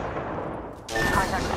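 Gunfire in a video game arena match, a sharp burst of shots breaking in partway through after quieter background, heard loud and close.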